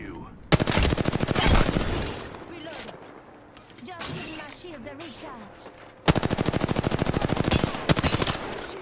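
Heavy automatic gunfire from the video game Apex Legends comes in two loud, sustained bursts of rapid shots. A quieter stretch of game noise with scattered sounds lies between them.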